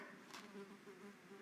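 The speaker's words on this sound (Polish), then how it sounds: "już mam tylko dość tego brzęczenia" A fly buzzes nearby with a thin, steady droning hum that wavers slightly in pitch, faint but continuous.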